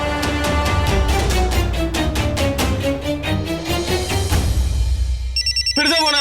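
Phone ringing with a repeated melodic ringtone pattern, loud and close, ending in a different electronic chirping tone.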